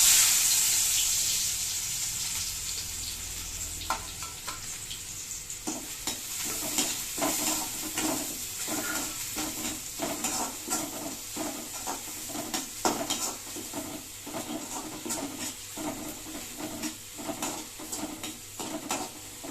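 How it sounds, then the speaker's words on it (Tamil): Sliced green chillies and onion drop into hot oil for chicken noodles, first a bright loud hiss, then a steady sizzle broken by repeated scraping strokes of a spoon stirring the pan. "இப்போ எண்ணெய் சூடானவுடனே இப்போ 2 பச்சை மிளகாய் நறுக்கி வச்சிருக்கேன், ஒரு வெங்காயம் நறுக்கி வச்சிருக்கேன். இப்போ இதெல்லாம் சேர்க்கிறேன்."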